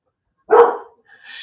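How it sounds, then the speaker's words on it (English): A dog gives one loud, close bark, followed by a brief quieter higher-pitched yip or whine. "The dogs are going off because they're dogs."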